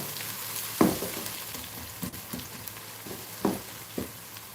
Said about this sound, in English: Let these onions and garlic saute for at least 2 to 3 minutes